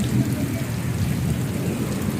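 Heavy evening rain falls in a village, a constant dense roar of water close by with no pauses and no distinct thunderclap.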